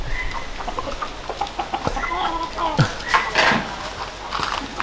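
Chickens cluck and peck in short irregular bursts around a farmyard, with faint background noise and a few sharper calls mixed in.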